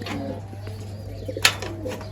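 A sturdy golden pigeon coos softly nearby, low throaty calls over a steady electrical hum, with a single sharp click partway through.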